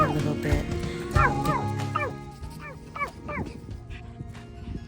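A dog barks repeatedly, sharp yappy barks in a quick series nearby, tapering off and growing fainter toward the end.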